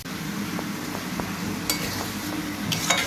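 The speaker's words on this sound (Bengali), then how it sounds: "এদিকে মাটনটার জন্য পেঁয়াজ ভাজা হচ্ছে" Onions frying in a pan for mutton curry, a steady low sizzle broken by occasional stirring scrapes and light clinks of utensils, close by with no voices.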